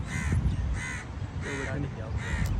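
A crow caws in four separate harsh bursts at an even pace at an outdoor sitting spot by water, fairly close, with faint background noise between calls.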